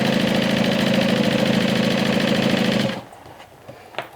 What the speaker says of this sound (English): you're going to stitch that down with a 1/2 inch seam allowance. Always back stitch at the beginning and at the end